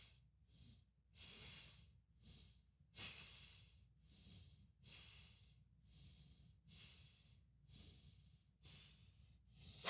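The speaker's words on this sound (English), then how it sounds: "you were breathing through your nose" Slow, regular nasal breaths, about nine airy hissing inhales and exhales repeating evenly, faint and close with no voices.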